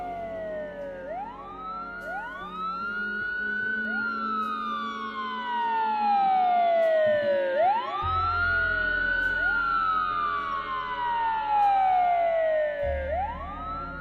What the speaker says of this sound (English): you can hear the sounds of sirens approaching in the alleyway where you're standing